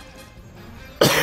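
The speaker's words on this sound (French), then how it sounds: "désolé, je tousse" A single harsh cough bursts out abruptly at the end after near silence, close and loud.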